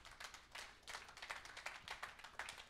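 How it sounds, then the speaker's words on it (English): Audience clapping at a men's church conference round table, a quiet, ragged run of hand claps with uneven bursts, fairly distant and faint, no talk over it. "give him a clap for that"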